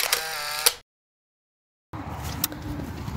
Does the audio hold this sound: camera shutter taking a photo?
yes